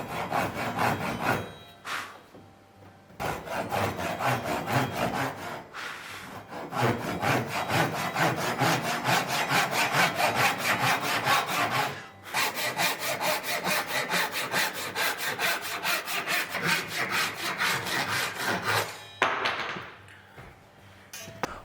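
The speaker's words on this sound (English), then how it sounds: "the stuff outside of the trim line can be cut off, so we're going to mark that as scrap" Sawing scrap wood off the end of a laminated wooden boat stem for a quarter-scale boat build, a long run of steady, rhythmic back-and-forth strokes, close and fairly loud, with a few brief pauses.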